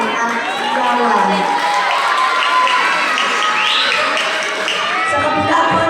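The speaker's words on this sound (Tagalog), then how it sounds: "Maaari po ba ang panlimos o manghingi ng isang masigabong palakpakan at sigawan?" A pageant audience at a town fiesta erupts in loud sustained applause with cheering and shouts, a dense crowd roar that holds for several seconds.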